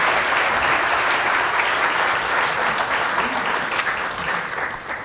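Audience applause welcoming political candidate Ron Wildman at a Hawkinsville meet-the-candidates forum, a loud, steady wash of clapping from a sizeable crowd that holds for the whole stretch and thins slightly at the end.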